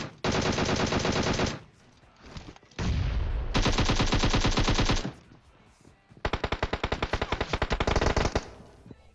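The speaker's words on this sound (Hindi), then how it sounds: "यहां पे मैं गोलियां बर्बाद कर रहा हूं" Rapid automatic gunfire in PUBG Mobile rips out in three long sustained bursts separated by short pauses, loud and close.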